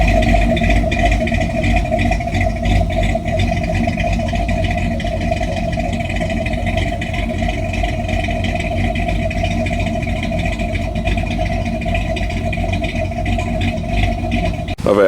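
A Ford Crown Victoria car engine idles steadily up close, a constant low rumble with a faint clattering pulse, unchanging throughout.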